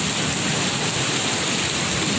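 Dense, heavy rain in the Philippines pours steadily, a loud continuous hiss with no pauses.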